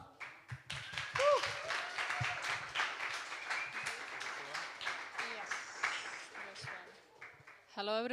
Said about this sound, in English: So give a round of applause for Justina.